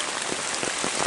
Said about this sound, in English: you go for a walk in the rain to rinse off